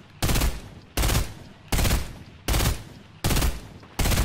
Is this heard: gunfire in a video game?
yes